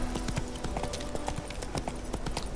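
Horse hooves gallop in a steady, rapid clip-clop rhythm in The Witcher 3 video game, loud and close, with a faint tone humming underneath.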